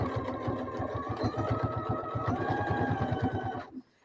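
A sewing machine stitching a quilt runs at a fast, even rhythmic chatter with a mechanical whine, close and steady for several seconds before abruptly stopping.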